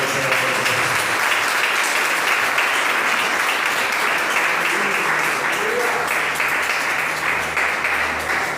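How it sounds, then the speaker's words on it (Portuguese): Church congregation applauding God at an anniversary service, a steady dense clapping that fills the room throughout, with faint voices mixed underneath. "As palmas ao Deus."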